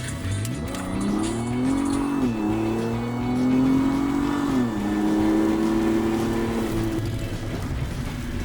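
A cheaply built donk car's engine roars through a hard pull, revs climbing and dipping through gear shifts with some tire squeal, loud and close for several seconds.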